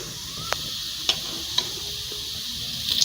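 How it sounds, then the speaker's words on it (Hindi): Kofta fry slowly in a pan with a steady bright sizzle and hiss, a few sharp pops and clicks punctuating the short stretch, close up and without talk. "अब हम इसको आहिस्ता आहिस्ता फ्राई करेंगे"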